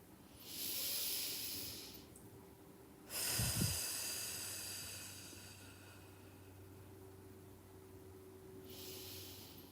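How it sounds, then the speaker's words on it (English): Deep breaths drawn in and let out slowly, soft airy hisses in a quiet room: an inhale, a pause, then a longer exhale and another faint breath. "We just take a few deep breaths."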